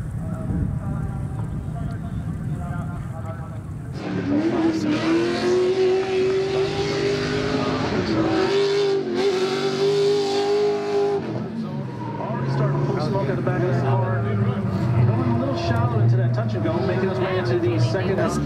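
Electric-powered Joker Performance Nissan 350Z drift car at a drift series event, tires squealing and a whining drive rising and falling over several seconds, with an announcer talking over it.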